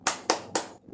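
Three sharp, evenly spaced hand claps from a group of children doing a rhythmic clapping chant with their teacher, loud and close, followed by a brief soft pause.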